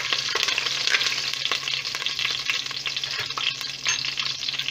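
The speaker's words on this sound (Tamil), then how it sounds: "நல்லா வதக்கிடுங்க." Curry leaves, garlic, green chilli and mustard seeds sizzle in hot oil in a pan, a dense, close frying hiss broken by the light scrape and clatter of stirring.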